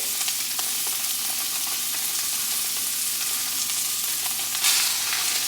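Steak pieces fry in butter in a pan, a steady, dense sizzle holding at an even level throughout with a slight flare near the end, no voices.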